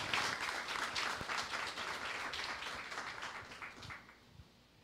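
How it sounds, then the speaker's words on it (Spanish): Audience applause at a foundation launch event, a burst of scattered hand claps that starts full and thins out, fading toward the end. "Aplausos, por favor."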